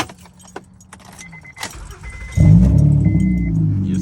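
Keys jangle near and quietly before a car engine cranks and catches, then settles into a loud, steady idle with a slight rev.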